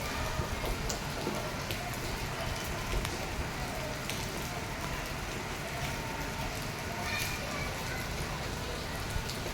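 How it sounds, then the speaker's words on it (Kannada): Steady rain falling on surfaces, an even hiss with scattered louder droplet taps, continuous and without talk. "ಮಳೆ ನೋಡಿ ಫ್ರೆಂಡ್ಸ್."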